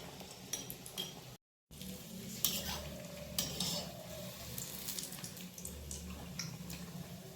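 Pitha cakes fry in hot oil in a kadai with a steady soft sizzle, broken by occasional scrapes and clinks of a utensil stirring and turning them, close up.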